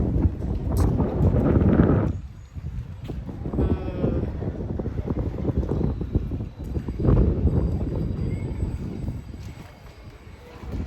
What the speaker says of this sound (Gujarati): અહીંયા બહુ જ મસ્ત પવન આવતો હોય